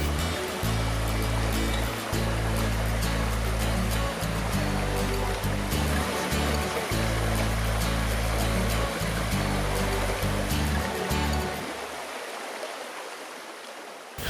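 Continuous rushing of a shallow creek on Hinchinbrook Island's Thorsbourne Trail, with a low rumbling undertone, steady and close, easing off slightly toward the end.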